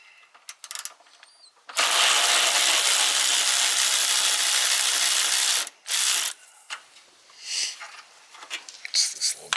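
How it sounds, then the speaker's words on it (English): A ratchet fitted with a 10mm socket loosens a headlight bolt on a 1998 Honda Accord. It gives a long, loud, continuous clicking run that pauses briefly, then a short second burst, and softer handling noises and speech follow. "Use the 10mm. Move this bolt right here."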